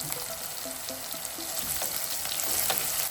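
Four chopped onions sizzle in a pan with black peppercorns and green and black cardamom pods, a steady close crackle and hiss throughout with small spits and pops.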